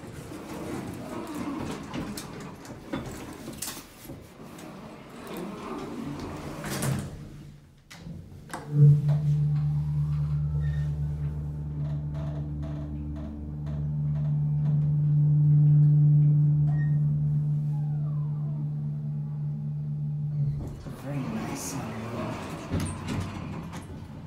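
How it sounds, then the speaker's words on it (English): A Montgomery hydraulic elevator at a JCPenney store runs with a steady low hum and drone that rises and holds for several seconds, with faint clicks and door sounds at start and end, under background store noise and some distant talk. "We've got an elevator ride."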